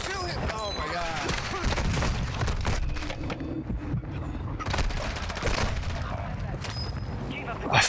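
Video game gunfire: dense bursts of rapid shots and booming impacts keep going throughout, loud and close, mixed with game sounds and excited voices.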